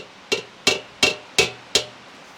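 Five sharp metallic hammer taps ring out at an even, unhurried pace, each clear and close with a short decay.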